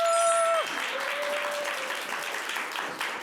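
Studio audience at a Korean youth lecture show breaks into loud, sustained applause welcoming a guest cartoonist to the stage, dense clapping fading slightly after the first moment, with a brief tone at the start.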